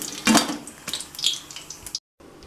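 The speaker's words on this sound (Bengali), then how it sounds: "এবার কড়াইয়ে তেলও গরম হয়ে গেছে, সাদা তেল। আমি ভেজে নিচ্ছি।" Chhana jilepi fries in hot white oil in a kadai, a brief crackling sizzle with a few scraping and clinking utensil sounds close by, then a short silent gap before the frying resumes.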